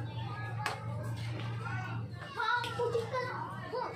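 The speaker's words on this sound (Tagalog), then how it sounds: "Ingay kasi yung mga bata sa labas kasi sa harap tayo ng tindahan." Children play noisily outdoors in front of a store, their voices and clapping carrying from nearby over a steady low hum from a home kitchen where food is cooking.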